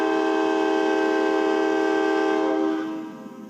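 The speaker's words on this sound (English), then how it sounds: "I like the train whistle." A train whistle blows one long, loud, steady tone with rich harmonics, holding for nearly three seconds before fading away.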